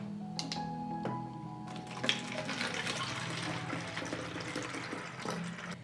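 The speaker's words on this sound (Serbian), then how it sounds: "I sipat ću vodu." Water is poured through a funnel into a bottle, starting with clinking handling of the glass, then a steady trickling, gurgling fill with rising resonant tones, close and alone.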